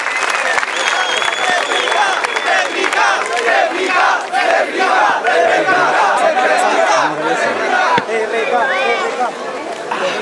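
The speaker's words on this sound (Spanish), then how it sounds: "Un aplauso fuerte de familia por la réplica." At a freestyle rap battle event, the crowd erupts in loud applause, cheers and shouted calls, a dense, continuous roar of clapping and voices that stays intense for the full stretch.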